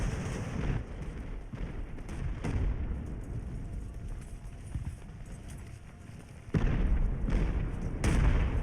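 Cannon fire in the naval battle game Ultimate Admiral Age of Sail, a string of dull distant booms and thuds, with heavier blasts bunched toward the end over a steady battle din.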